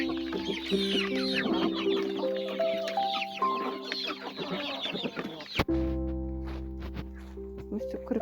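Chickens cluck and call in a farmyard yard in the evening, a busy, continuous flock chatter up close, with a sharp knock partway through and people talking over the birds.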